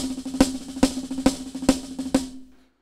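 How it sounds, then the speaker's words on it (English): Drum paradiddle-diddle played with an accent on only the first note of each group, a loud accented stroke recurring about every 0.4 seconds amid softer taps, with a steady ringing tone under it, ending in a short decay. "But if you want to accent just the first note, it sounds like this."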